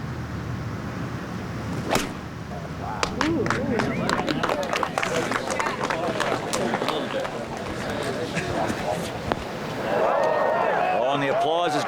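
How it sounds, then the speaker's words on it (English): Golf gallery applauding Phil Mickelson's 246-yard 6-iron second shot, steady outdoor clapping building through the stretch with a commentator talking over it and scattered sharp claps. "the applause is going to tell him that that was a good one"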